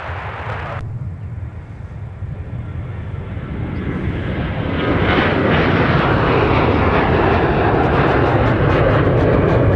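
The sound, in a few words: airliner taking off from runway 30 left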